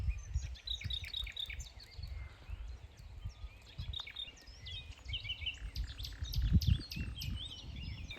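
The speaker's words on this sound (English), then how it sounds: "And like the bird song, like yesterday night, just magic here right now. And so many nightingales, it's just so beautiful." Nightingales sing outdoors beside a chateau, their bright, rapid trills and chirps repeating at moderate distance over a low background rumble, with no voices.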